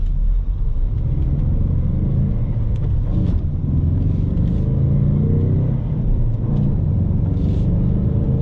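A 2021 Ford Mustang with a 2.3 liter engine and six-speed manual gearbox accelerates from inside the cabin, a steady loud engine rumble and road drone running continuously without speech.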